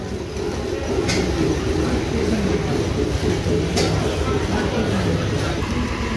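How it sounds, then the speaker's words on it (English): Very old steam engine running at a farm show, a steady loud low rumble and churning drone with occasional sharp clicks, continuous throughout. "Very, very old steam engine right here."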